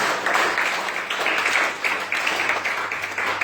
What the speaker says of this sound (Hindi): और जो ताली बजाए जैसे हालेलुया